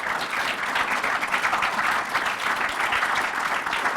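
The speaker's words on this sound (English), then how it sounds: "I would request the audience to give huge round of applause as I invite Sir on the stage" A lecture-hall audience breaks into sustained applause as a guest is invited onto the stage, a thick, even roar of many clapping hands that holds steady without voices for four seconds.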